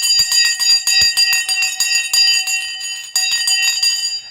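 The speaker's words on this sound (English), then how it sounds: "The bell's just going." A bell rings in rapid repeated strikes, loud and close, in a fast continuous clatter that pauses briefly before resuming.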